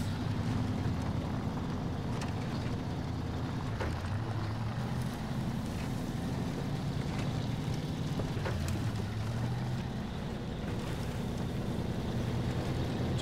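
A truck engine drones and revs in the off-road driving game SnowRunner on hard mode, a loud, steady low rumble with slight pitch swells that runs without a break and with no talk.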